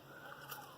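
Puffed-up, salty chicharrones (fried pork rinds) being bitten, a faint, brief crunch close to the mouth with no voices.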